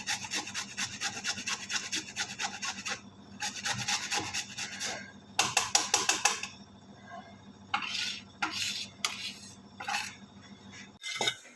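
Fresh ginger is rubbed by hand over a metal kitchen grater for tea, giving rough rasping strokes in irregular bursts with short pauses and a few light clinks, close by with no talking.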